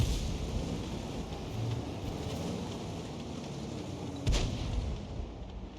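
An SU-8 self-propelled gun fires in a tank video game, a single heavy boom cracking out near the end over a steady rumbling engine and wind-like background, with no voices.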